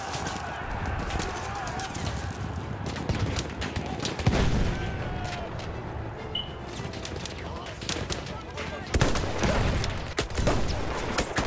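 Battlefield 1 gameplay carries rapid bursts of gunfire and scattered single shots over a busy, noisy battlefield din, moderately loud throughout with a few sharper peaks.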